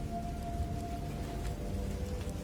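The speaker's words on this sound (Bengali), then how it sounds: "বাইরে বৃষ্টি পড়ছে অনেক সময় ধরে, ঝড়ের সাথে সাথে মেঘের আওয়াজও আসছে বেশ জোরে সোরে।" Rain falling steadily outside during a storm, a continuous dense patter with a low rumbling undertone and faint music, heard from indoors.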